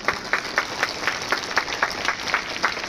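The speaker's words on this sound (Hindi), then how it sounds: "एक बार जोरदार तालियों से अभिनंदन करें हम सभी" An audience claps at a lamp-lighting ceremony opening a yoga day event: a modest, fairly rhythmic patter of hands in unison, moderately loud with a faint room murmur behind.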